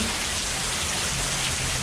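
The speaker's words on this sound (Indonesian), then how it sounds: "di depan hujan, lumayan deras juga ini" Heavy rain pours down just outside, a dense continuous hiss of drops hitting surfaces, loud and steady throughout with no voices.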